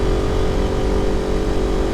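A Kawasaki Ninja 400 motorcycle engine running at steady high revs under hard acceleration, a loud continuous drone heard alone.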